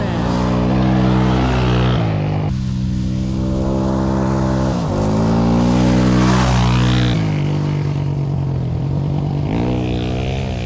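A side-by-side UTV with an old 230 engine revs hard and steadily through corners in fifth gear, a loud, continuous droning whine rising and falling close by, with a voice briefly underneath.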